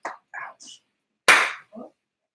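A single sharp hand clap marks the start of a take on a live holiday roundtable show set. It lands loud and close, set between short bursts of voices before and after.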